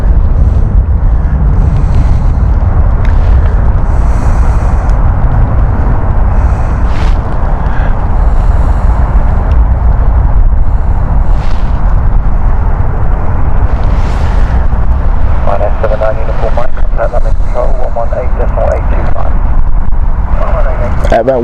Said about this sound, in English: That was a Malta Air